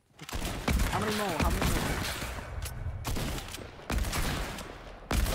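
Sniper rifle shots in a snipers-only Fortnite Battle Royale match crack out as loud, sharp reports, several spaced through the stretch, with game effects and a player's voice talking over them.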